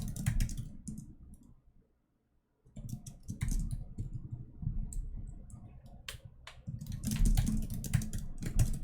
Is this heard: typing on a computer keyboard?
yes